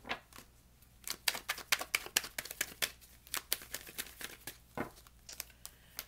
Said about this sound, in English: So we're going to pull six cards.